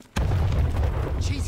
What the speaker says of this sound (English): It's probably an explosion.